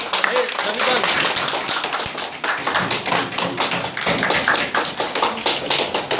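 Loud applause from an audience at a gathering of Nepali and Indian journalists, close, sharp individual claps stacking into a vigorous, continuous clatter with a few heavier thumps, and voices mixed in.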